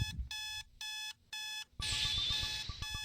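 An alarm clock rings in the video game Butterfly Soup as a series of evenly spaced electronic beeping bursts, loud and alone, then cut off by a rustling, shuffling clatter with a high whine.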